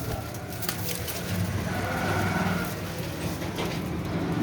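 Kasuri and Lakha pigeons for sale, cooing softly in low murmurs that run steadily throughout, with a faint mechanical hum and light background noise behind them.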